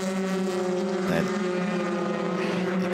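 Euroformula Open race cars accelerate out of Stavelot toward Blanchimont at Spa-Francorchamps during 2018 qualifying, producing a steady, high-pitched engine drone that holds its tone without a break.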